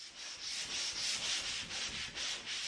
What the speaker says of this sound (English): I'm using a fine sandpaper here, concentrating on the edges where it meets the plasterboard.